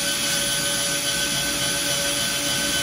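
A power drill with a too-small bit drilling a hole runs at a constant, loud, high-pitched whine throughout, close up and uninterrupted.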